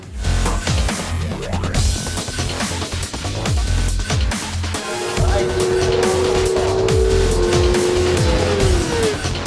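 Racing motorcycles tear around a track at speed, engines roaring in loud bursts with a sharp passing whine partway through, one bike's pitch climbing and holding as it draws away.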